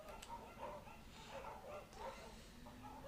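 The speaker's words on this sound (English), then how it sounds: "There's a scruffy, undersized beagle." Small, scruffy beagle barking in the Firewatch video game, a few soft barks and yips repeating in a rough rhythm over a steady game background hum.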